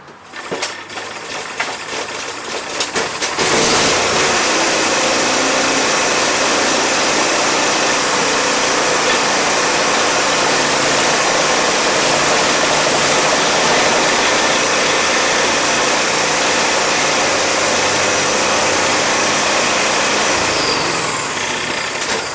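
An Ariens 1128 snowblower with a 420cc Hemi Predator engine sputters to life and then runs at a loud, steady, high-pitched roar for nearly twenty seconds, close by, before easing slightly near the end.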